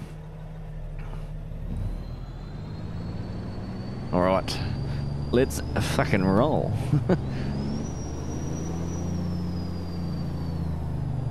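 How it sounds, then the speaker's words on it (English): A turbocharged Volvo truck engine in American Truck Simulator drones steadily beneath a voice, with a rising turbo whistle, sharp hissing air bursts and rattles in the middle. "I think this truck had the same turbo fitted that the Western Star did the other night"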